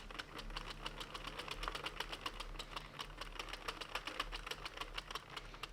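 Sentro knitting machine being cranked, a rapid, even clatter of needles ticking in a regular rhythm for several seconds, close and fairly quiet with no talk.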